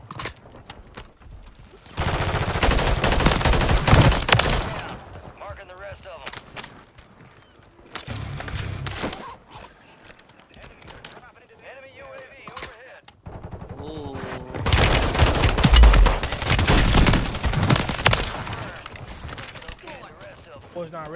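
Bursts of rapid gunfire from a video game shooter crackle in loud, dense clusters separated by quieter gaps, with fainter single shots and background game noise between volleys.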